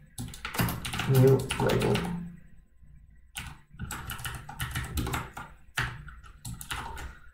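Rapid keystrokes on a computer keyboard while creating a label in software development, with speech over much of the clip and clicky typing bursts between phrases.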